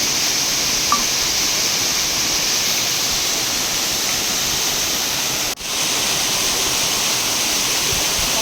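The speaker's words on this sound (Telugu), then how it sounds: "ఇదే అండి కటికి వాటర్ ఫాల్స్" Katiki waterfall in Araku pours in a steady, dense roar of rushing water, loud and unbroken throughout, with one brief click partway through.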